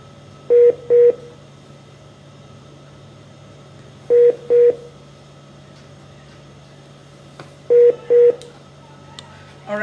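Three quick pairs of telephone keypad tones, evenly spaced over a steady low hum, as a phone call is dialed to connect with someone; no talk.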